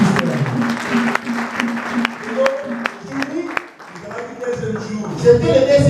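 A church congregation applauding during a sermon, a burst of clapping mixed with voices and crowd noise that rises and falls, with speech heard through the clapping.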